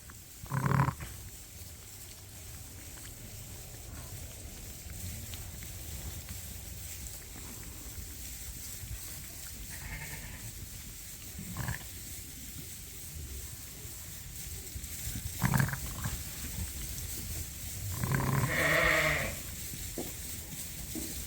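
Lambs and sheep on a sheep farm bleat in several separate calls, some short and some drawn out, fairly close over a quiet rural background, with no talking.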